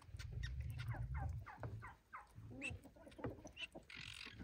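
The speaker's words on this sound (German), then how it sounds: "Heute sind die Vögelchen schon ein Tag alt." Day-old chicks chirp in a rapid, busy cluster of high peeps, close and fairly loud, over a low rumbling background.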